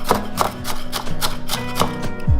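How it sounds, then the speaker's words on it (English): A knife chops diced onions finely on a cutting board, producing quick, evenly spaced sharp taps close to the listener, about seven strokes in a steady rhythm, ending with a heavier thunk. "We want our onions really finely diced, so I'm gonna go ahead and run the knife through these just to get them a little bit smaller."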